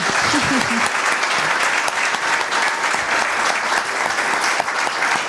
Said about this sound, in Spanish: Esos aplausos significan que está muy bien recibido el panel